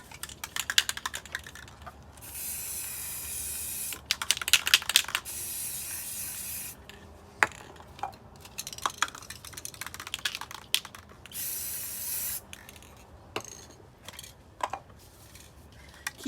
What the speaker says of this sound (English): Then we are going to spray your colors of choice into the bucket.